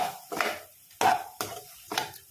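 Prawns being stirred with curry, cumin, coriander and garam masala powders for a prawn biryani, four distinct scraping stirs of a spoon against the pan, close and moderately quiet, with pauses between.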